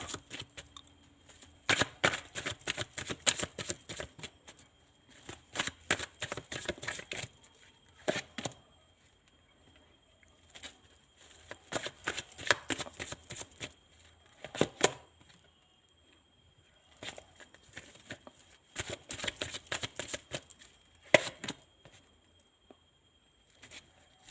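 Tarot cards being shuffled make bursts of rapid, soft riffling and flapping, coming in several separate runs with short quiet gaps between them, close by and fairly faint.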